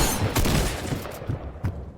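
Rapid gunfire bursts striking a built wall in Fortnite, a quick flurry of loud overlapping shots with a sharp crack near the end.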